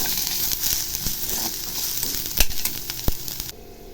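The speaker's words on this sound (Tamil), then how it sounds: "போட்டு இதை நல்லா வதக்கிடலாம்." Cabbage sizzles steadily in a hot pan, with occasional sharp clinks of a spatula stirring, before the sound drops away near the end.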